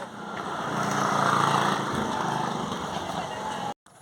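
A motorcycle engine runs at a steady drone under faint voices while a barefoot runner moves along a road, holding constant before cutting off abruptly near the end.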